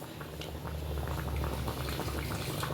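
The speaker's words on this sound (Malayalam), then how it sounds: "ഇനി ഒരു ഗ്ലാസ് വെള്ളം കൂടി ഒഴിച്ചു കൊടുക്കാം" Steady bubbling of boiling water in a pressure cooker with small pops and gurgles, continuous and fairly close, no voices.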